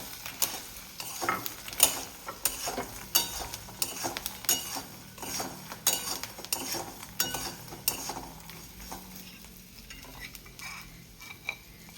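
Fox nuts (makhana) roasting with beet salt, coriander and black pepper powder in a pan, quiet sizzle under repeated clinks and scrapes of a spoon stirring, irregular and close, no talking.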